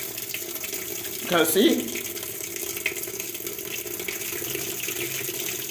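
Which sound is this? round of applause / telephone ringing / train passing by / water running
water running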